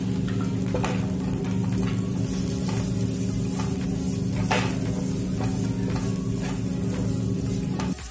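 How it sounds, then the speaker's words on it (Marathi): Onion, tomato, ginger, garlic and fresh grated coconut sauté in a pan, producing a loud, constant sizzle with a steady hum beneath and repeated scraping stirs throughout, close up and without any speech. "आता आपण ह्याच्यामध्ये आलं घालायचे, लसूण, त्यानंतर ओला नारळ हा सुद्धा परतवून घ्यायचा आहे।"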